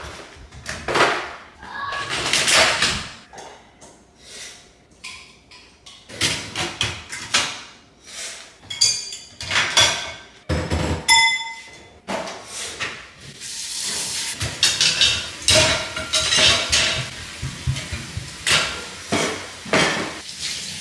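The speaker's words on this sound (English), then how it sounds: "Let's do the dishes first." Dishes being washed in a home kitchen: plates, pots and cutlery clinking and clattering in irregular bursts, with running water hissing between them, loud and close with no talking.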